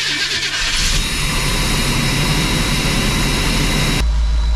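An old abandoned motor home engine, rigged with an auxiliary fuel pump, roars loudly and steadily as it runs, its tone shifting abruptly toward a deeper rumble near the end.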